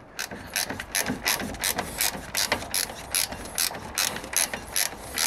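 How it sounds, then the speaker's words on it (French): A hand ratchet clicks steadily while loosening brake caliper bolts on a Citroën C3 1.4 during a front disc and pad change, rapid even ratcheting in repeated strokes, close and clear with no voices. "je finis le travail avec mon cliquet"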